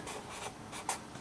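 Pencil or pen writing on paper, noting down TI-83/TI-84 calculator keys, with soft scratchy strokes in several short bursts and one brighter tap near the end, quiet and close with no talk.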